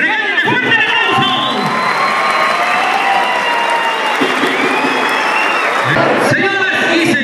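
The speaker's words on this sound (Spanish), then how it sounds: "regalen un fuerte aplauso" A loud crowd at a ranch bull event in Tepic bursts into sustained applause with cheering, whoops and children shouting, close and dense. Voices ring out over it near the start and again at the end.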